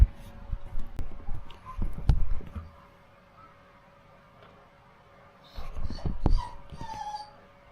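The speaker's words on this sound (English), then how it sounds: "Doggy's in here with me today, making whining noises." Indoors in a garage where a BMW 2002 is being restored, a dog whines and whimpers nearby in two soft bursts separated by a quiet stretch, with faint clicks of work in the background.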